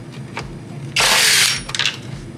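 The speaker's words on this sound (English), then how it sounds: "take your Phillips head screwdriver or drill, zip those out." A power drill unscrews Phillips screws from a car headlight housing, whirring loudly for about half a second, with faint clicks and handling noise before and after.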